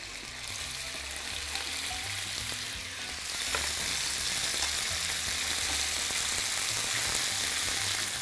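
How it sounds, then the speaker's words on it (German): Pork fillet sears in hot garlic-infused olive oil in a pan, giving a continuous crackling sizzle that grows more intense after a few seconds, with occasional light clinks and no talk. "Und jetzt wird es ein bisschen brutzeln."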